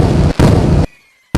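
A modified firecracker goes off in a loud, close blast, followed by a second burst after a short gap, then a brief near-silence before another sharp bang cuts in at the end.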